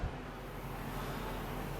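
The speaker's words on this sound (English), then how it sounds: "apologies for the fan" Electric fan running in a home kitchen, a steady, faint broadband whir with a low hum, constant throughout with no other sounds.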